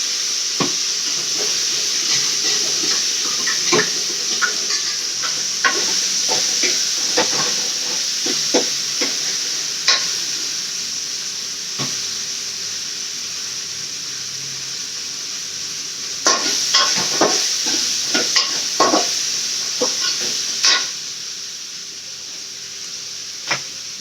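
Sautéed vegetables including raw banana and tomato sizzle steadily in a pan, with frequent scraping stirs and clinks of a spatula throughout, loud and close with no talking.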